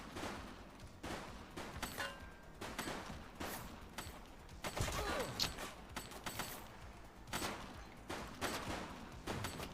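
Scattered gunfire in the police game The Precinct, quieter repeated shots and short bursts spread through the clip at irregular intervals, with faint talk mixed in beneath.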